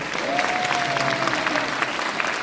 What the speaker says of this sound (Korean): 여러분, 이분들 잘하시고 박수 한번 드려주실까요?